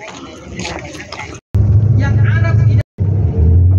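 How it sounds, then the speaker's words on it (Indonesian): A convoy of buses on a city tour around Mecca rumbles by nearby, a heavy continuous engine drone broken by two brief cuts, with a voice talking over it. "Iring-iringan bus yang melakukan perjalanan city tour di sekitar Mekah."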